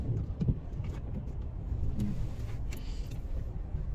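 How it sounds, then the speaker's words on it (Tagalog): Heavy road traffic in Vancouver rumbles faintly and low, with a constant distant drone of many cars and no single vehicle standing out. "Sobrang traffic. Ang daming sasakyan."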